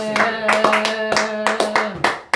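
A church congregation claps loudly in a quick rhythm, with the claps coming in strong bursts over a sustained musical tone.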